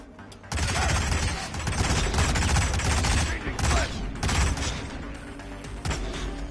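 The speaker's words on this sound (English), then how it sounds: "Open fire! Target is in the clear!" Video game gunfire rattles in sustained, dense bursts of rapid shots and booms, loud and close, with brief pauses between volleys.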